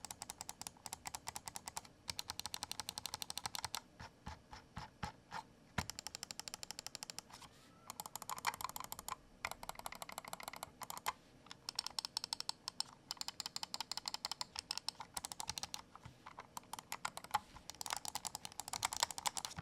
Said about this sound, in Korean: 마우스 클릭 소리는 어떤지 바로 체크해 보도록 하겠습니다.